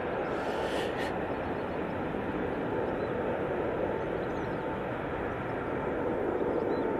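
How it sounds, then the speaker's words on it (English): Airplane departing Manchester Airport, a steady broadband jet roar held at a distance for the whole stretch, even and continuous with no speech. "Beautiful, beautiful departure there."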